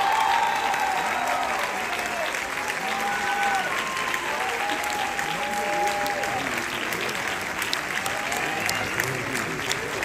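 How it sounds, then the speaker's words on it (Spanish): Sustained, loud audience applause for actor José Ron at a theater celebration of 100 performances of "El mago", a dense wash of clapping with cheers and whistles running steadily throughout. "¡Un fuerte aplauso para él, por favor!"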